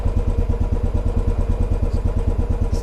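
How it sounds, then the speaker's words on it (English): A used motorcycle engine idles just after a cold start, close and loud, with a fast, steady, even pulsing throb. "So the bike started right up,"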